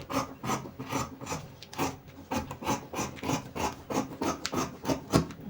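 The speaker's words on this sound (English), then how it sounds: "I'm cutting the back now." Scissors cut through dress fabric with a pinned paper pattern for a baby girl's two-layered dress, making a steady series of close, rasping snips and rubs in a regular rhythm, with no voices.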